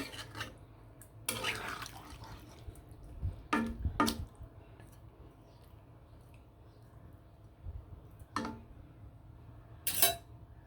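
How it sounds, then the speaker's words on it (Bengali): Water poured into a pot of rohu fish curry with broad beans, heard as a few short splashing bursts over a low background hum, with quiet gaps in between. "পরিমাণ মতো জল দিয়ে দিলাম"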